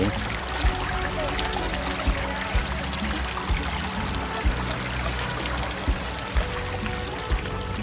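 Steady broadband rush of water flowing in a canal with small recurring splashes and low thumps, continuous throughout at moderate level.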